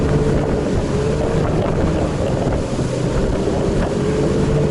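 A motorboat on a lake rides over waves, its engine a steady loud drone mixed with hull slapping, rushing water and heavy wind buffeting the microphone throughout.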